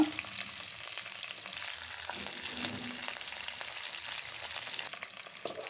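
Green chillies, curry leaves and mint fry gently in oil over a low flame for a Goan fish meal, producing a faint, even, continuous sizzle with occasional light crackles and no voices.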